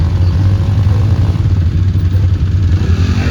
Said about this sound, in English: He's trying to get out of the way so these dirt bike riders can get through.